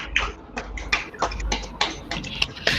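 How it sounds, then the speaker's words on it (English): Online meeting participants unmuting to clap, heard as a scattered string of individual claps of uneven loudness, some close and sharp, with a low hum underneath. "Can we all unmute and clap for Chetan?"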